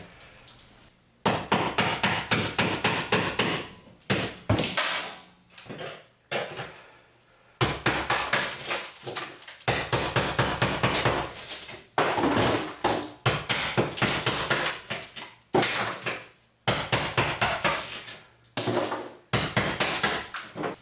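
Heavy spatula hammered against ceramic kitchen tile backsplash during demolition, loud bursts of rapid metallic striking and cracking with short pauses between.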